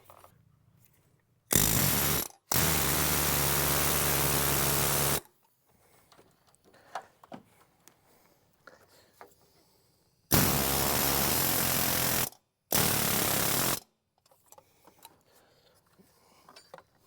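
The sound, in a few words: impact wrench with fan clutch wrench set on Duramax engine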